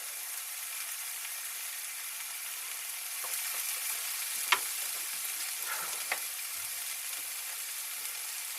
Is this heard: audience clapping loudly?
no